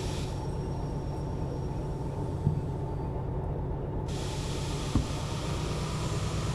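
Train in the rail simulator Derail Valley rolls downhill. A steady low rumble and rattle of wheels on track continues throughout, with a couple of faint clunks and no talking.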